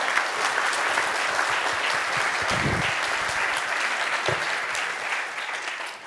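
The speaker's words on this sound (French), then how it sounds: "un tonnerre d'applaudissements pour lui" Audience applause for a speaker at a French talk on a Google-free Android smartphone: dense, steady clapping from a large crowd, sustained and fairly loud throughout before easing slightly at the end.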